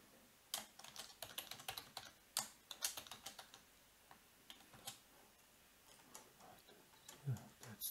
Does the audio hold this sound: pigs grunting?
no